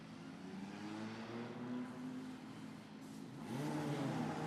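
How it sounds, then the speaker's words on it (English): Formula Regional single-seater race cars pulling out onto a Middle East circuit, a steady engine drone with rising revs near the end, moderately loud with no talk. "Cars head out onto the circuit."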